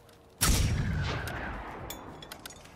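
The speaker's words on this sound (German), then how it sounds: "Ich schieß mal drauf, ne?" A single heavy gunshot booms out in Generation Zero while firing at robots, its loud blast decaying over a couple of seconds, followed by a few faint clicks.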